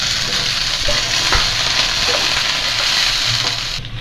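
Fresh green peas tipped into golden fried onions in a hot pan for veg masala Maggi, giving a steady, loud, close sizzle with stirring scrapes throughout and no speech.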